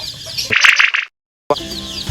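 Junglefowl chickens, including a newly hatched black chick, give a loud, close burst of clucking with a brief flutter of wings lasting about half a second, then fall silent before softer farmyard noise returns.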